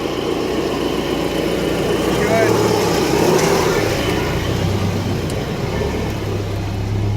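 A car is driven slowly into place before a tire change, its engine running with a close, steady low hum and idle that stays even throughout.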